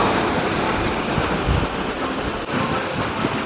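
Steady rush of ocean waves washing in at night on Jeju Island's west coast, with wind noise buffeting the microphone throughout; no voices.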